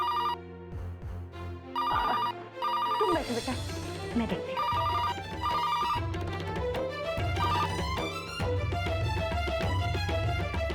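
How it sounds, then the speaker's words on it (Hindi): A telephone rings late at night in a home in repeated bursts of bright electronic tones, with dramatic music swelling underneath and someone speaking between rings. "इतनी रात को किसका फोन हो सकता है?"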